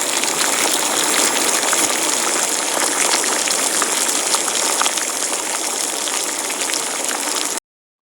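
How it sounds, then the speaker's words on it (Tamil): Three kilos of soaked jeera samba rice go into a large pot of boiling water for chicken biryani, making a loud, steady rushing gush that holds for several seconds and then stops abruptly. "தண்ணி நல்லா கொதிச்சிருச்சு இப்போ மூணு கிலோ ஜீரக சம்பா அரை மணி நேரம் நல்லா ஊற வச்சு எடுத்து வச்சுக்கிறோம் இதை ஆட் பண்ணிக்கலாம்"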